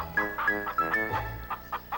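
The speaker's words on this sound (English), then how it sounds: "and the biggest chickens you've ever seen" Chicken clucking in short repeated bursts, fairly close, with a steady tonal hum running underneath.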